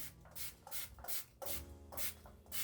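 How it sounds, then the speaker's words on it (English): Milk Makeup Dewy Set setting spray mists onto a face in about five quick, soft hissing spritzes, each a short airy burst with brief gaps between. "We're gonna spray down with this dewy set"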